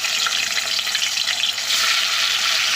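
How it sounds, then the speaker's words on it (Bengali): Katla fish frying in hot mustard oil in a wok, a steady, dense hiss and crackle that stays close and loud throughout with no pauses and no voices. "দেখো তেলটা গরম হয়ে গেছে এখন মাছগুলো ছেড়ে দিচ্ছি"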